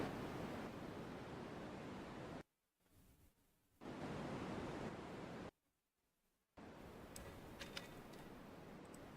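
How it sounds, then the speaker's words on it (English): Steady broadband white noise hisses loudly and evenly, cutting out abruptly twice for about a second each time before resuming, with no talking. "Can you guys hear the white noise?"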